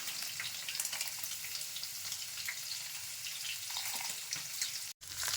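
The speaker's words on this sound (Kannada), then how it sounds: "ಪನ್ನೀರೆಲ್ಲ ಈ ಥರ ಗೋಲ್ಡನ್ ಬ್ರೌನ್ ಬರೋವರೆಗೂ ಫ್ರೈ ಮಾಡ್ಕೋಬೇಕು." Paneer cubes frying in hot oil and ghee until golden brown, giving a steady, dense sizzle throughout that cuts out abruptly for a split second near the end before resuming.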